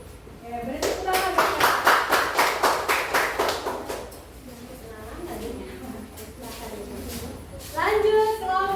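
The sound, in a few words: applause after a group presentation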